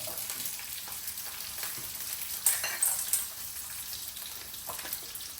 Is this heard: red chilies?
yes